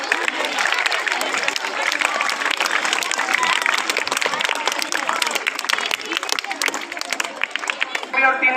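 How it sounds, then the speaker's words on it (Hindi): Loud, dense applause from a crowd at a school prize ceremony honouring students with top monthly test results, steady clapping throughout with faint voices mixed in. "जोरदार क्लैपिंग इन दोनों के लिए"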